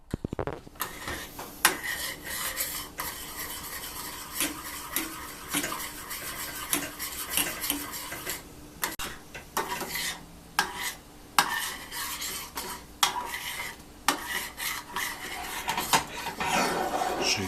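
Cheese souffle batter being stirred and whisked in a bowl in a home kitchen to work out the lumps, a steady close scraping and clinking of utensil against the bowl that continues throughout with brief pauses and no talk.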